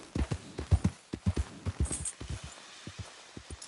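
Horse hooves clip-clop at a walking pace in Red Dead Redemption 2, a steady, fairly close rhythm of uneven hoof strikes with no talk over them.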